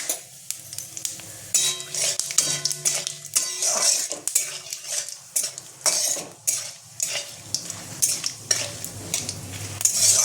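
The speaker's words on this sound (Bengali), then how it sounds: "আর জয়িত্রী, জিরে আর গোটা গরম মশলাটা দিয়ে দিলাম আমি।" Whole spices, black cardamom, mace, cumin and asafoetida fry in a hot pan for a Kashmiri mutton rogan josh, with a steady sizzle under repeated metal clinks and scrapes of stirring, close by and without talk.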